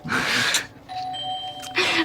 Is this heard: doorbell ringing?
yes